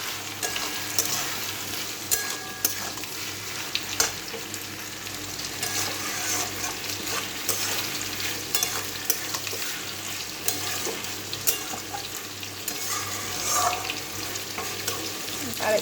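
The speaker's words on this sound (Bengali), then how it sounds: "এখন মিষ্টি কুমড়োগুলো একটু ভেজে নিচ্ছি।" Pumpkin pieces fry in a pan on a home stove, with a steady sizzle broken by repeated scraping stirs and clatters. The sounds are close and continuous and are heard without speech.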